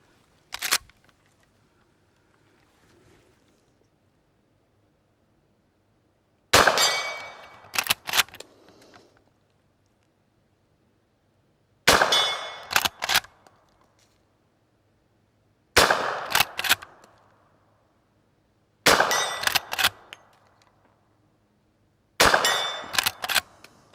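Winchester 94 lever-action rifle firing .357 Magnum rounds, a loud sharp shot followed by a few quick clanks of the lever action, repeated in six evenly spaced bursts with quiet between.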